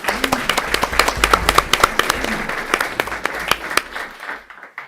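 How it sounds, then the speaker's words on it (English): Steady applause from a room full of people at a board of education meeting, many hands clapping together and fading out toward the end. "A round of applause for them"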